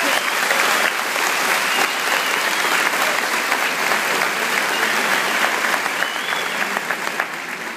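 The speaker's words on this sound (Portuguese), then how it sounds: "Aplauda esse Deus que não desiste de nós." A church congregation breaks into sustained, dense applause that fills the space at steady loudness throughout, with no voices standing out over the clapping.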